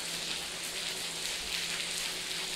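Steady, dense rain falls on a surface, a continuous close hiss with scattered drop patter and no voices.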